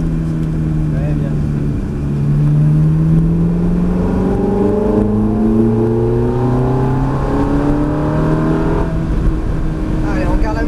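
Ferrari F430 F1 engine on the Mérignac circuit, a steady loud drone whose pitch rises and falls as the car lifts off and brakes, with a voice speaking over it.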